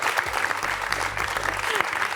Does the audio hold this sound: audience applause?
yes